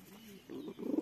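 Soft, low cooing from a pigeon close by, a couple of muffled throaty coos rising toward the end over faint background hiss.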